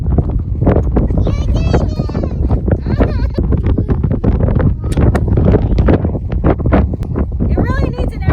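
Gusty wind buffets the microphone in heavy low rumbles, with bleating animals and other scattered sounds nearby.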